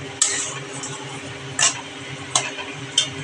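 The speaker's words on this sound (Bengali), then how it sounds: "এখন আমি একটু কষাবো কষাবো বলতে যতক্ষণ তেলটা না ছাড়বে ততক্ষণ কিন্তু আমি কষা কষিয়ে যাব মশলাটা" Masala spice paste being stirred and fried in a pan, a steady low sizzle broken by four sharp scraping clinks of the spoon at uneven intervals, close and clear without talk.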